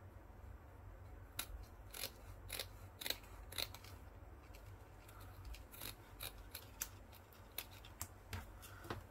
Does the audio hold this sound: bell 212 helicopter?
no